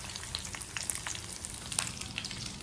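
Chicken rice vermicelli (bihun goreng) frying in a pan, a steady close sizzle with scattered sharper crackles and pops throughout, no voices.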